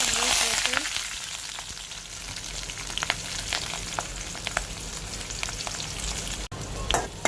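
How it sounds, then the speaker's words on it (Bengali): Onion, green chili and garlic fry in oil, a loud close hiss of sizzling with scattered crackles and a few stirring scrapes, no talking. "রসুনগুলোকে একটু ভেজে নেব"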